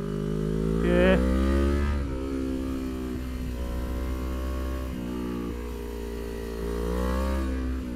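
A Kawasaki Ninja 250 motorcycle laps Horizon Beranang Circuit, its engine rising and falling in pitch as it accelerates, shifts and eases off, buzzing steadily and fairly close throughout.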